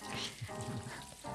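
Tofu sizzles and crackles in a hot pan, a close, continuous frying hiss with small pops.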